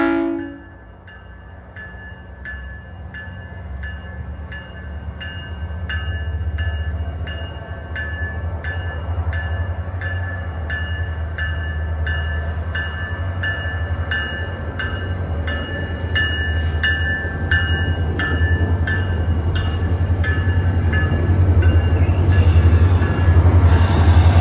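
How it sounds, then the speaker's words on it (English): A SunRail southbound commuter train, number 323 led by cab car 2010, rolls through Winter Park station with a loud continuous low rumble, rhythmic wheel clacks and rising squeal, building steadily as it passes close by. "First up is southbound train 323 with cab car 2010 at the lead."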